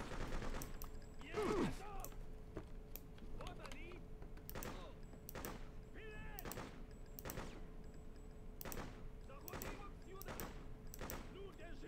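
Kalashnikov rifles firing in the 2003 video game Freedom Fighters, repeated sharp bursts of automatic gunfire spread across the scene, some near and some farther off, with someone talking between shots.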